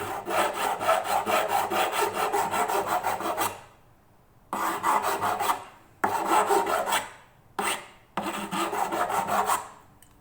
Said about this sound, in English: these are not steel frets, they're usually nickel or something along those lines. So they are quite soft, so they're filing fairly quickly.